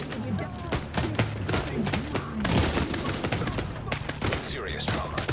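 Rapid bursts of weapon fire with heavy recoil in The Division 2 crackle and clatter continuously at close range, dense and loud, layered with other game sounds and a voice talking underneath.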